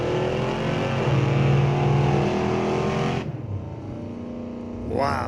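A Malibu drag racing car heats its tires at Mission Raceway Park during street legal drags, its engine roaring loud and steady before cutting off abruptly, then revving up again briefly at the end.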